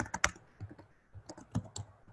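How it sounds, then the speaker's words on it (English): An email address being typed on a computer keyboard produces a quiet, uneven run of light key clicks close by, with a brief pause midway and no talking. "So for example, on this form, if I just start typing in"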